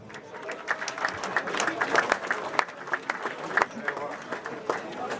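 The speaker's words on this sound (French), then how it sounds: "Donc on peut les applaudir" An outdoor crowd at a charity hunt event in Saint-Maximin, Gard, gives a round of applause. Scattered, uneven clapping mixes with murmuring voices throughout.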